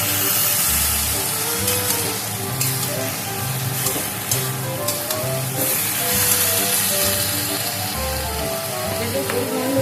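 Spice paste for Bengali shukto stir-fried in a pan, a steady loud sizzle with scraping and stirring throughout, plus a low rhythmic hum underneath.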